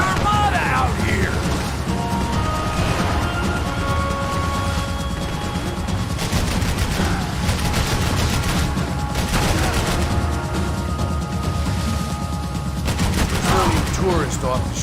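An overheating gun in Max Payne 3 rattles off near-constant automatic fire for the whole stretch, loud and dense, with a faint voice in the mix and brief tonal whines layered over the shooting.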